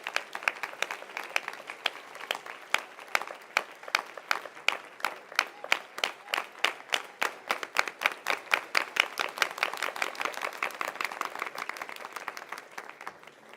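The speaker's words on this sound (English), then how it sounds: "So a big round of applause to each one of you." Sustained audience applause at a birthday celebration in Leicester, with dense rhythmic clapping building steadily, loud and close, then tapering slightly toward the end; no voices over it.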